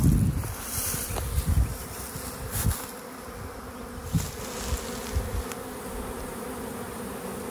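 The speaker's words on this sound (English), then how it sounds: "You can see all the bees coming in low" Honey bees buzz around a busy hive during the summer flow, a dense continuous drone with individual bees whizzing close past now and then. It is moderately loud and there is no talking.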